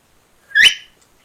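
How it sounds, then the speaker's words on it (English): A small plastic shepherd's survival whistle gives one short, loud, shrill blast that slides upward in pitch, heard up close against silence. "It's a small bit of plastic, gives quite a loud noise and can be heard quite a way."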